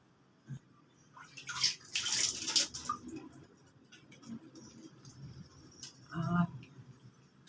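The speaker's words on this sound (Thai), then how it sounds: "พี่ก็จะมาล้างหน้าด้วยสบู่" Face washed with soap and water at close range gives a few short splashing and rubbing bursts separated by near silence, soft and intermittent, with no talking.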